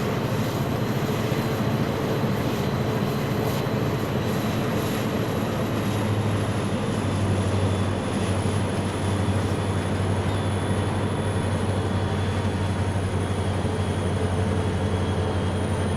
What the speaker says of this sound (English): This is the train to Brightwater.